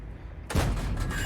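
The AT-8 tank destroyer's gun fires in World of Tanks, a single sharp, heavy blast that breaks a quiet moment and leaves a rumbling tail.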